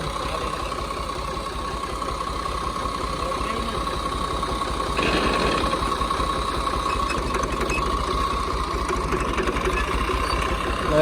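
A faulty tractor engine chugs steadily at close range during a wheat harvest, a constant mechanical drone with a slight rise in intensity midway.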